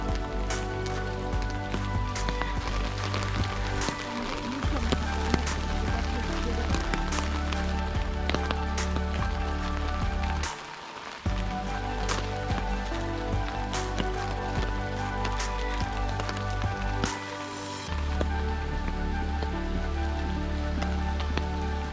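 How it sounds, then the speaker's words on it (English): Winter rain pours steadily over a swamp forest and wooden boardwalk at Congaree National Park, a dense, close patter with sharp individual drops ticking through the constant wash. "I would recommend not coming in the rain. It is not letting up."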